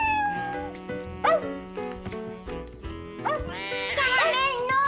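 Small cartoon puppy barks and yips in short, high, bright bursts, the loudest near the end, mixed with animated dialogue and a light musical score.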